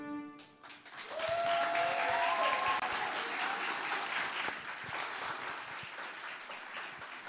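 Audience applause for a group of teenagers at a church gathering swells after a brief tonal note and continues steadily, a dense, moderately loud wash of clapping from a sizable crowd.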